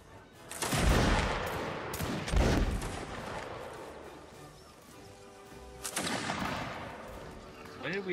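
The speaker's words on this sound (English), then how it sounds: "When did we all get so good at shooting?" Musket volleys crack out in the Napoleonic Wars video game during an online line battle, with several loud ragged bursts and scattered distant shots echoing between them.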